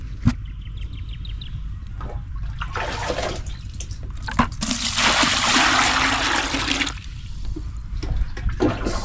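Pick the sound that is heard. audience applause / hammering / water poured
water poured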